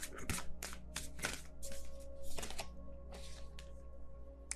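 Tarot cards being shuffled by hand, a run of quick riffling and slapping bursts repeating steadily over a low background hum, close and clear with no talking.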